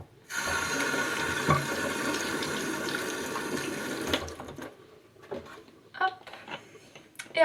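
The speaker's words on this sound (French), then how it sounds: "Et après je rince tout ça avec un gant." Tap water runs steadily and splashes at a bathroom sink while a washcloth rinses foamy makeup remover from a face, then breaks into scattered splashes and drips as the flow stops.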